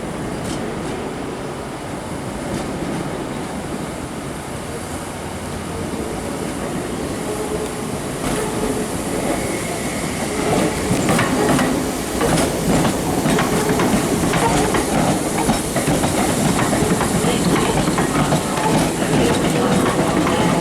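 A ScotRail train bound for Gourock runs on the rails near a platform in Glasgow, giving a continuous low rumble with a faint clickety-clack. It grows louder and busier about halfway through, and nobody talks over it.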